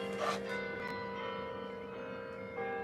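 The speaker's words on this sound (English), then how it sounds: "You can hear the bells in the background of the carry-on here in Victoria Harbour" Church bells ring faintly and at a distance across Victoria Harbour, their sustained tones hanging as a soft wash, with a brief brighter strike near the start and no talking.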